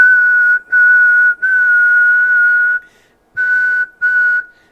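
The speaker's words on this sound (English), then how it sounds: "I'm going to try a little whistle here." A person whistles one steady, high, sustained pitch in five loud, close bursts separated by short pauses, with no other sound behind it.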